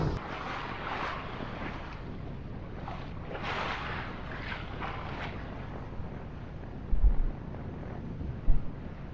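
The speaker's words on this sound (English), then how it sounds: "So windy, it's blown part of my beard off." Strong wind buffets a lone sailboat far out at sea, a steady roaring gust and microphone rumble with a few heavier thumps near the end, no talking.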